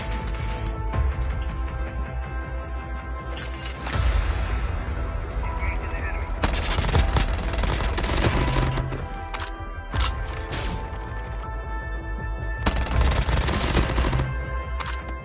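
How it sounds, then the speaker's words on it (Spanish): A MAC 10 submachine gun rattles off rapid bursts in Call of Duty Mobile, with dense automatic fire coming in several loud stretches over steady background game music. "Es el momento de probar la MAC 10."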